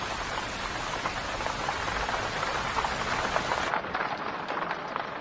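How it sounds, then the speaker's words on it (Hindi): A sudden downpour hisses steadily and evenly, with dense drops striking surfaces nearby. It sounds alone, with no talk, and the rush thins out near the end. "अचानक से बारिश क्यों होने लगी?"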